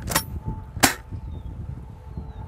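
A UTG Multishot airsoft shotgun shooting 0.20 g BBs across a chronograph gives two sharp, close cracks about 0.7 seconds apart, the second slightly louder, over a low room hum.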